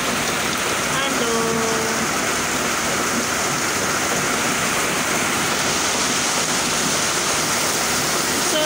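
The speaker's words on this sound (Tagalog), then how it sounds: "Kaulan na naman." Rain falling on a rainy afternoon in Tung Chung village, a dense, constant hiss of heavy rainfall that stays steady and loud throughout, with a faint voice briefly audible early on.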